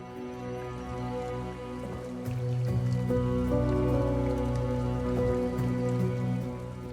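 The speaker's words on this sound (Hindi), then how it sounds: "बाहर एक बार धूप लगी और फिर से बारिश लगी" Rain pattering and dripping on a surface, steady and fairly soft, with a constant droning hum underneath, falling outdoors in a hill village.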